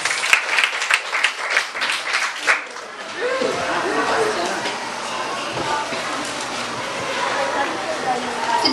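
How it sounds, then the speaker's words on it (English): Audience applause at a school debate follows a speaker's voice, a broad wash of clapping that swells and holds for several seconds under a faint room murmur. "A round of applause."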